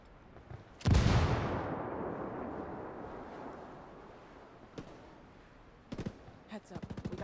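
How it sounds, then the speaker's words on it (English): Grenade blast in the Tom Clancy's Wildlands video game: a loud boom with a long rumbling decay, then scattered gunshots and rapid bursts of fire toward the end, with a voice shouting over the combat. "Grenade!"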